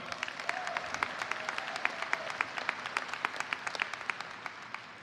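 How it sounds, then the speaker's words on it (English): An audience at a high school graduation ceremony claps in sustained applause, the individual claps landing in a quick, fairly regular patter at moderate volume. "let's give them a round of applause just as well"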